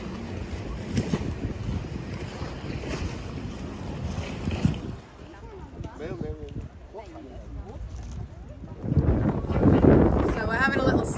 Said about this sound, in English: Oh, I like this wind.